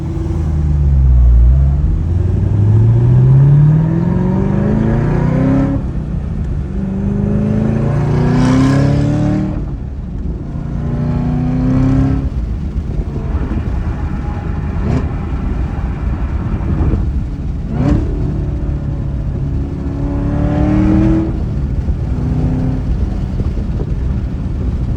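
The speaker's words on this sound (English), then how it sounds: "So I'm gonna get in the car, start driving" A passenger car engine runs while driving, with rising and falling revs as it accelerates and shifts through gears, heard steadily from inside the cabin with no talk.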